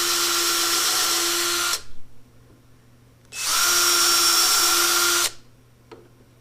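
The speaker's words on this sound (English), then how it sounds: "And I'm drilling." A power drill whirs loudly in two bursts, each running steadily for about two seconds, separated by a short pause.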